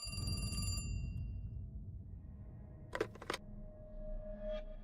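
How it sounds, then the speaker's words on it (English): A telephone rings in The Cat Lady video game, its electronic bell trilling in short bursts over a steady low ambient hum, with no talking. "Oh, el teléfono. Are you gonna get that?"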